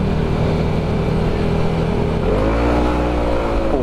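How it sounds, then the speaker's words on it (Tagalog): Freshly refreshed motorcycle engine idling with a rough, loud putter, then revving sharply upward about midway and holding a rising, high-pitched roar close by. "Puta kalakas nitong motor ko."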